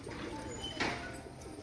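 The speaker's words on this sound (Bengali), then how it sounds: "এই দেখো এখানে অনেকগুলো পায়রা বসে আছে" Pigeons sitting together on a rooftop give a soft, low coo, faint and close amid quiet background rustle.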